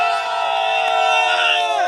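A large crowd at the RedBud motocross National roars and cheers loudly and continuously, the whoops and shouts blending into one dense, sustained wall of sound.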